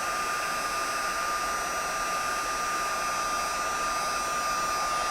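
A heat gun blows steadily to melt metallic embossing powder on a Valentine's heart card, a constant close airy whoosh with a faint hum that holds unchanged throughout, with no talking.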